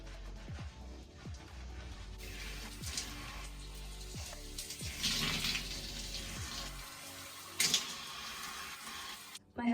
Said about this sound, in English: I am going to go in first with a clarifying shampoo to get rid of all of that build-up.